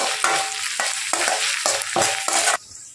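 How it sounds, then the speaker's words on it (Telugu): Ginger garlic paste frying in oil sizzles loudly and close while a spatula scrapes the pan in about six rhythmic strokes, then the sizzle drops to a low hiss. "ఇప్పుడు ఇందులోకి కొద్దిగా అల్లం వెల్లుల్లి పేస్ట్ని కూడా వేసుకొని పచ్చి వాసన పోయే వరకు అయితే వేయించుకున్నామండి"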